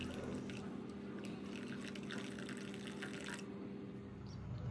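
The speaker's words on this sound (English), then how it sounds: "Now pour boiling hot water inside the oven pan till it reaches the height of half" Hot water is poured into a metal oven pan holding ramekins, making a soft, continuous splashing trickle that stops near the end. It is faint and heard alone.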